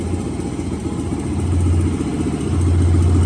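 A 2001 Honda XR100 dirt bike with the choke off runs with a loud, close, steady single-cylinder chug that swells louder toward the end, with no voices.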